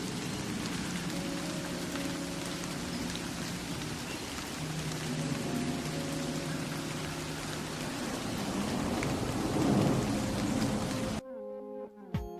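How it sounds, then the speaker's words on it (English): Steady rain falls through a forest, a dense, even hiss of drops on leaves and ground that fills the whole stretch and cuts out abruptly near the end, with no voices. "the sound of rain erases noise in my head"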